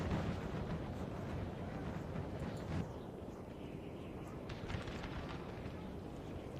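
Distant, rumbling cannon fire in Napoleon: Total War during a Peninsula Campaign battle, a low, continuous roar of artillery with a few duller thuds rolling through, heard under a talking voice.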